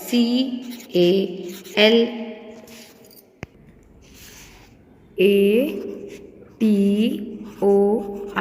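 A word written on a classroom board, faint scratchy strokes tucked into gaps between a teacher's spoken lines, soft and intermittent under and around the talking.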